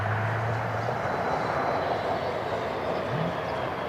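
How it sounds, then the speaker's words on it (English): Gulfstream business jet at Cleveland Hopkins Airport, a steady distant jet roar with broad engine noise and a rising whine near the end, fairly faint with no talking. "Here's the Gulfstream."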